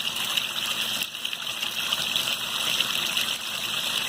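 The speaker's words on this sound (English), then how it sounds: "You notice you got water coming out the first connector, the second connector filling a couple spots" Water runs steadily through the connectors of a homemade children's water table, a continuous close splashing gush with no pauses and no talking.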